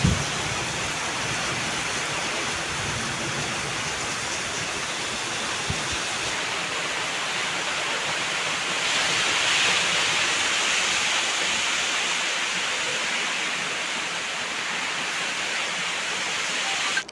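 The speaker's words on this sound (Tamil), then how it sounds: "உங்களுக்கு கீழே பார்க்கும்போதே தெரியும் இவ்வளோ மழை பெஞ்சிருக்குதுன்ட்டு" Heavy rain falling outdoors, a dense, steady roar of downpour that holds loud and unbroken for the whole stretch, with a slight swell midway.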